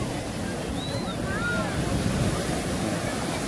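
Waves at Laranjeiras beach, a steady broad wash of surf with wind buffeting the microphone, continuous and fairly close, with faint whistling tones drifting over it and no speech.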